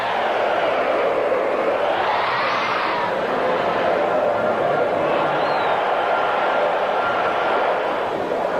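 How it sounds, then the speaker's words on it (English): Dense baseball stadium crowd at a 1983 Phillies–Dodgers playoff game, thousands of voices rising and falling in a sustained roar of chanting, loud and continuous throughout with no clear talk on top. "this crowd chanting, beat L.A., beat L.A."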